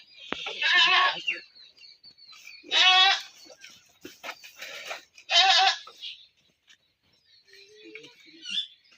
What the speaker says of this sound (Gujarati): બકરી લાયા લાગે છે